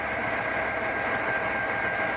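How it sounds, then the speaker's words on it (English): A car engine idles steadily after a random multiple-cylinder misfire repair, a continuous even hum with a faint mechanical whine, close and constant with no talk. "Much better. Sounds way smoother."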